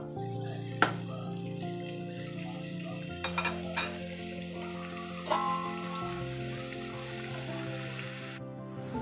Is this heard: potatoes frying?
yes